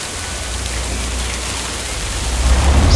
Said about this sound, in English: Looks like it's starting to rain here on the game.